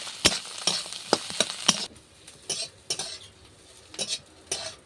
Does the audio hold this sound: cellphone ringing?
no